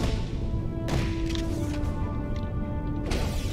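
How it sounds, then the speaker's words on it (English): A door is punched off in a Klingon video game, giving two heavy, hollow thuds about two seconds apart over a steady, loud background of game ambience. "Punch a door off enough?"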